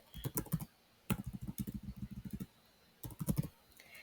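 Close keystrokes on a computer keyboard while writing code, in three quick bursts of rapid clicking separated by short pauses, with no voice.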